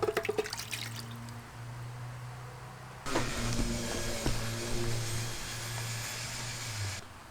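Water poured into a newly installed sink drain runs and drips, with brief splashy impacts at the start, then a louder steady rush of flowing water that stops abruptly near the end.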